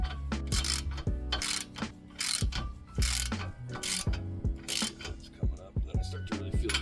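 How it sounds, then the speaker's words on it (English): A socket on a tie rod end nut is turned by hand, giving quick bursts of ratchet clicks in an uneven rhythm, close and fairly quiet, with no talking. "Let me get the socket for it. And just tighten it by hand without a torque wrench until this stops sucking up."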